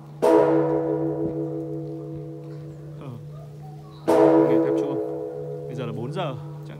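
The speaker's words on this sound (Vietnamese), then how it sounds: "Nghe tiếng chuông hay nhỉ?" Church bells ring out from the bell tower of Phat Diem Stone Cathedral, two loud resonant strikes each hanging in a long humming decay, with people talking nearby.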